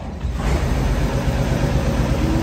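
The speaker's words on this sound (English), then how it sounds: "Always a good starting tractor." An International 856 tractor engine runs steadily just after starting, a loud, continuous low rumble that dominates throughout.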